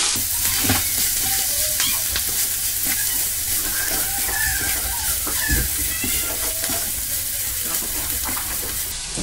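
Dandelion buds stirred in a hot pan with cooked lardons, a loud steady sizzle and crackle of frying with scraping utensil strokes and occasional sharp spits, close up, no talking.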